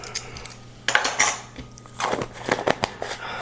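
A spoon clinks and scrapes against a bowl while a tablespoon of salt is measured in for bread dough, several sharp metallic taps and rattles close by in short bursts.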